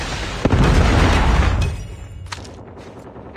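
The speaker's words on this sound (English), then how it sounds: "Predator missile inbound" A Predator missile strike in Call of Duty: Mobile lands as a loud, sustained rumbling explosion that fades out, followed by a few faint distant pops.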